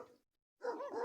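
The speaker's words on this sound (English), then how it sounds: "And if you hear dogs barking, it's because they don't know who we are." Dogs bark on rural land in Mexico during the rainy season, a short yelp followed by a silent gap and then a longer, louder run of barking at moderate distance.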